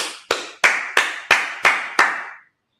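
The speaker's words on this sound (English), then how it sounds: "All right, let's clap it up" A congregation at a Sabbath service claps in unison, seven sharp, evenly spaced claps with a slight ring after each, loud and close, then silence.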